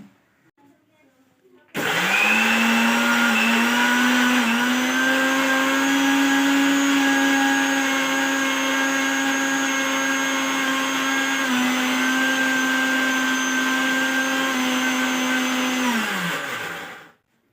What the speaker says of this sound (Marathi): कांदा टमाटर मिरची आणि कोथिंबीर याचा मिक्सरमध्ये वाटून घेऊ